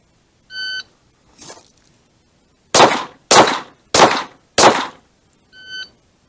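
A shot timer beeps, then a handgun fires four quick loud shots at an outdoor range during a drawn sidestep drill, and a second beep follows.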